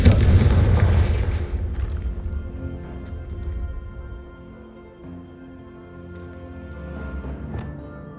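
A Confringo blast spell in Hogwarts Legacy goes off with a heavy explosive boom at the start, then a long rumbling decay and scattered debris crackles fading into quieter ambience.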